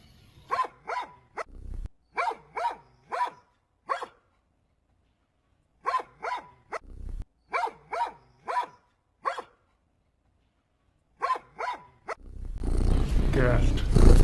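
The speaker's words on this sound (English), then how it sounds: "Dog." A dog barks in repeated bursts of two to four sharp, loud barks separated by short silences, close and clear, before a broad noisy rush takes over at the end.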